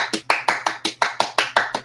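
A rapid run of about ten hand claps in a steady, fast rhythm, each one a sharp, close smack with a faint low hum underneath.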